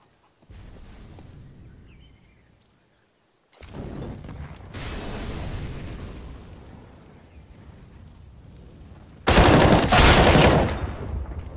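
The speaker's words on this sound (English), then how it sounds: "And NBK swinging the other AWP." Gunfire in a Counter-Strike match on the Inferno map, including AWP sniper rifles, with bursts of shots and blasts in separate loud stretches broken by quiet gaps, ending in a sharp, loud burst.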